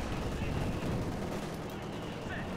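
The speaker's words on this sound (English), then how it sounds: "Why are they shooting at the AT gun?" Gunfire in the World War II strategy game Company of Heroes 2 crackles as a dense, continuous clatter of shots and bursts, loud and unbroken throughout.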